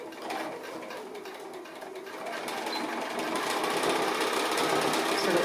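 A sewing machine runs a seam across a zippered fabric pouch inside the seam allowance, making a fast, even whirring stitch. It is close and continuous, grows slightly louder toward the end, and no voices are heard.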